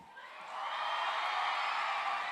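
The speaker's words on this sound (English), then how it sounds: "And now, make some noise for our guest, straight from NYC, Dr. Chris Emden." A crowd at a daytime STEAM rap battle event rises into sustained cheering and whooping for an arriving guest, swelling after a brief start and holding as a broad, steady roar.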